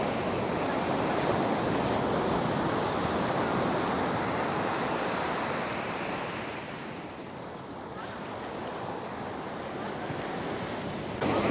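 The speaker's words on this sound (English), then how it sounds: "And then the waves" Ocean surf rolling in at Varkala beach on the Kerala coast, a steady loud broadband roar of breaking waves mixed with wind buffeting the microphone, easing slightly midway before surging again.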